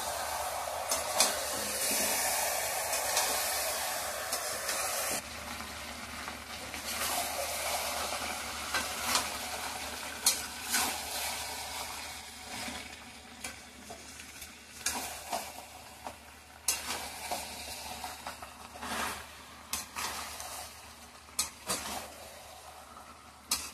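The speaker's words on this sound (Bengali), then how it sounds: "এখন সুন্দর করে মাংসটা কষিয়ে নেব" Chicken pieces sauté in a pan with tomato and slit green chillies for chicken curry, a long, even sizzle broken by frequent spatula scrapes and clinks against the pan.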